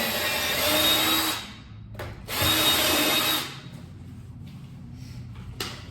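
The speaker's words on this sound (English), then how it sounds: "Unless you use like a what's that called? A right angle drill." A right-angle power drill whirs in two short bursts, spinning up and stopping, with quiet room noise between runs, in a concrete basement.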